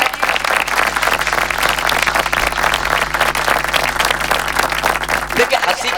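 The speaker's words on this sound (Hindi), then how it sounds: "यहाँ से लेके और वहां तक हाथ उठाकर बजाओ ताली" Audience applause at a Hindi comedy poetry show (hasya kavi sammelan), a dense, steady wash of clapping from a crowd that carries on for the full six seconds, with a faint low hum running underneath.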